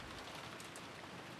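Wind and rain fill a scene in the Umineko When They Cry visual novel: a dense, steady hiss of heavy rainfall with gusting wind, unbroken and fairly loud throughout.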